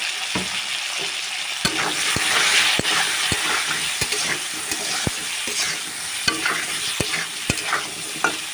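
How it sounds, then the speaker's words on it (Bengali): Spiced vegetables frying lightly in a pan, with a steady broadband sizzle under repeated sharp scrapes and taps of a spoon stirring at irregular intervals, close and fairly loud throughout. "এবারে একটু এগুলোকে আমি হালকা ভেজে নেব"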